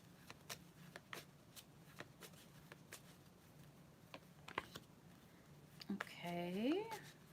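Tarot-style Gypsy deck cards are shuffled in a run of soft riffling flicks and taps close by, ending in a brief louder burst; a voice talks quietly over part of it.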